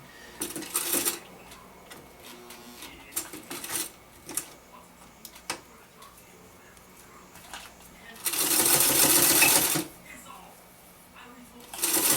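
A sewing machine top-stitches the bottom seam of a handmade bag, a steady whirring burst of about a second near the end, with someone talking between brief clicks and handling noises before it.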